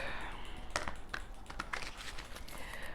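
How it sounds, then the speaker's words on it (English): A deck of oracle cards is shuffled by hand up close, giving quick crisp clicking and flicking sounds in an irregular patter with no talking. "I'm gonna shuffle these a bit first"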